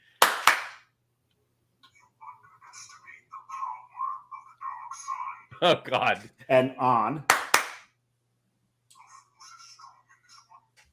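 Sharp hand claps set off a Darth Vader clapper switching a Christmas tree, a quick burst near the start and a double clap later, loud and close, with people talking and laughing between them.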